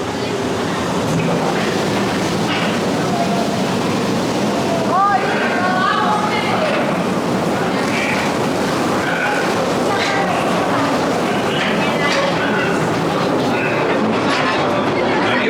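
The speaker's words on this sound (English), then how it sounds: "we came to the next ride. It's going to be the Calico Mine Ride" Mine train ride at Knott's Berry Farm: a steady, close, loud rumble with rattling wheel clatter and faint squeals throughout, with muffled voices in the background.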